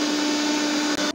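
An electric blender mixes lassi with a loud, steady whining motor drone that cuts off abruptly just before the end.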